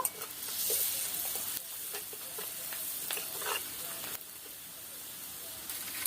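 Onions with turmeric and salt fry in a pan, a soft, even sizzle broken by several scraping stirs, fairly quiet and close.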